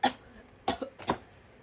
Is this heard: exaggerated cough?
yes